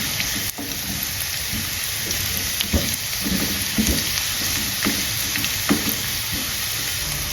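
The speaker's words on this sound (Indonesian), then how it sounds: "Kemudian kita aduk ini supaya tempenya ini wangi bawang ya." Previously fried tempeh stir-fried with garlic and shallots in a home kitchen pan gives a steady, close sizzle, broken by scraping stirs from a spatula.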